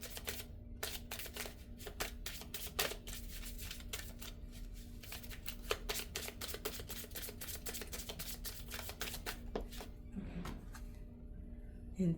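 Oracle cards from a Two Hearts Meet deck being shuffled and handled, a steady run of dense papery flicks and riffles close up for several seconds, with brief soft talk in the background.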